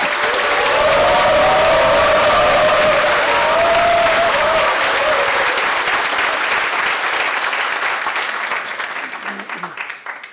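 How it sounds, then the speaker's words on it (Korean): Audience applause at a political launch ceremony of a national unity committee in Korea, loud sustained clapping from a large crowd that fades slightly at the end, with a voice faintly heard over it. "나오실 때는 오늘 가장 큰 박수를 주셔야 합니다"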